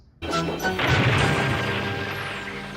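Wooden toy railway engine and tender crash into a signal box, a sudden loud smashing impact followed by a sustained clattering rumble that slowly fades.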